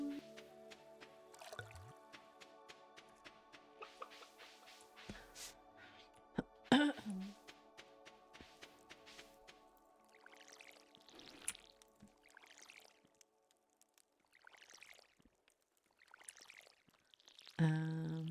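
Watering crops with a watering can in the video game Stardew Valley, a series of soft splashing pours and drips spaced irregularly, quiet overall with a few louder bursts and no talk.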